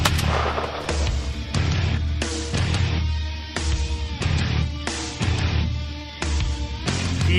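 Repeated loud gunfire rings out in a steady series of sharp blasts with echoing tails, heard during a hunting outing with no voices.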